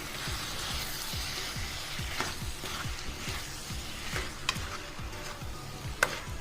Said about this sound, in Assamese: এইখিনি ৰহুন, এইখিনি আদা আৰু এইখিনি গোটা মছলা মই খুন্দি লৈছিলোঁ। ভালদৰে লৰাই দিম।